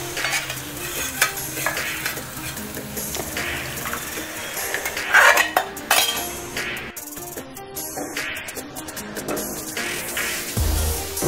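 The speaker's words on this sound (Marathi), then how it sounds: "आता आपण शिजवलेली डाळ टाकूया।" Cooked dal goes into a pot of roasted spices for restaurant-style dal khichdi, with a steady sizzle, spoon stirring and scraping, and metal clinks against the pot over several seconds.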